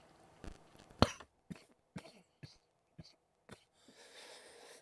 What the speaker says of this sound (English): Here we go with the coughing fit.